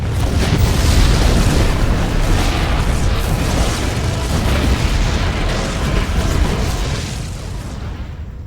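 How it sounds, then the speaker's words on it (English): Explosions rumble on board a ship in the StarCraft II: Heart of the Swarm video game, a continuous loud roar of booms and bursts that slowly fades near the end, with no talk. "The explosions have stopped."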